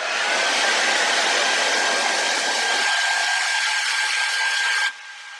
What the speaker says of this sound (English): I'm just going to use my hair dryer for a few